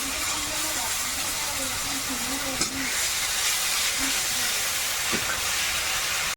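Onion, ginger and garlic paste sizzles in hot oil as a steady, loud hiss that fills the whole stretch, with a faint low hum underneath.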